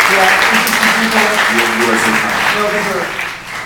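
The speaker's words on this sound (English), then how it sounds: "let's give a huge round of applause to Mario and the Mobile Monday team" A crowd at a tech meetup applauds steadily for a few seconds while voices carry over the clapping, which tapers off at the end.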